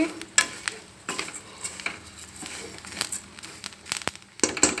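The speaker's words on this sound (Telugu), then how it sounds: "సిమ్లో పెట్టేసి నిదానంగా వేపుకోవాలి" Vermicelli slowly roasting in a pan over low heat while being stirred, giving soft continuous crackling with scraping strokes and occasional clinks of the spoon, close and quiet.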